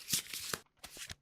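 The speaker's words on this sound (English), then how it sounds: "Shuffle these up." Playing cards for the board game Kingdom Death are riffled in two quick bursts of crisp, close fluttering and snapping, with a short pause between them.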